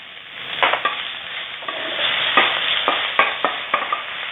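Pounded chili, garlic and shrimp paste stir-fried in hot oil in a wok for a southern Thai stink bean and minced pork dish, a loud close sizzle punctuated by repeated sharp scrapes and clacks of the spatula, without speech.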